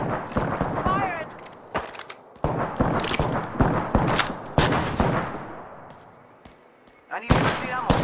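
Repeated sharp gunshots ring out in Apex Legends combat, single shots and short bursts spread across the moment, loud and close with brief pauses between, while a voice speaks over the firing.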